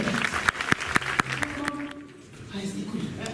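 An audience claps at a French talk show, a few scattered sharp claps over a low crowd murmur that fades briefly and then swells again, with voices speaking in the room.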